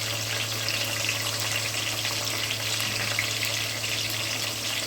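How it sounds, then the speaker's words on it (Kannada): Sliced onions fry in oil for chicken biryani, a continuous even hiss of sizzling that holds steady throughout, close and fairly quiet with no talking. "ಈರುಳ್ಳಿ ಚೆನ್ನಾಗಿ ಹುರ್ಕೊಳ್ಳಿ ಬ್ರೌನ್ ಕಲರ್ ಬರಬೇಕು"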